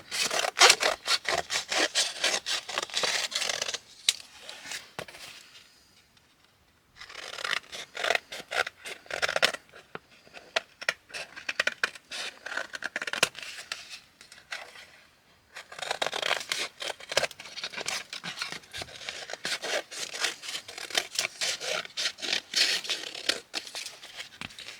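Scissors trimming a paper card for a craft project, heard as close, rapid crisp snipping and rasping strokes in three long bursts separated by brief pauses, with no talking.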